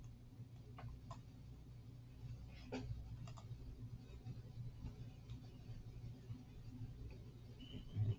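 Sparse, faint clicks of typing on a computer keyboard come in scattered bursts over a low steady hum in a quiet room.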